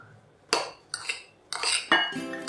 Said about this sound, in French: Il faut mélanger doucement pour que les graines ne se collent pas